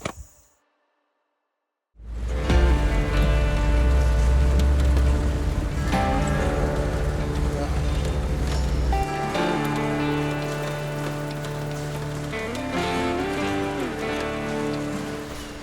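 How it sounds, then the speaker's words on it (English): Steady rain patters on a surface with a dense, continuous hiss and low rumble, starting after a brief silence and staying fairly loud throughout. "I awoke to rain again on the 3rd day of my expedition."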